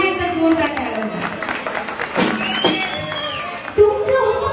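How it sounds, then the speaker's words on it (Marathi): An audience claps at a Guru Purnima stage programme, with a broad wash of clapping and crowd noise running beneath a loud amplified voice talking over it. "त्यांच्यासाठी तर पुन्हा एकदा जोरदार टाळ्या वाजवा."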